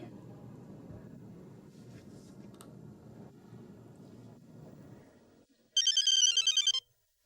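A telephone rings once in a rapid electronic trill for about a second and goes unanswered, cutting in after a low steady rumble that fades out just before it.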